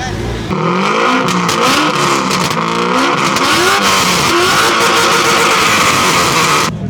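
A car engine at a car meet revs hard in sustained, rising and falling bursts, loud and close, starting abruptly and cutting off near the end, with faint voices beneath.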